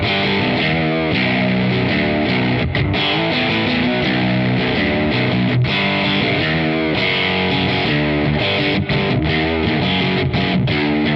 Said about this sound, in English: So it's a meteor distortion. So this is more distortion.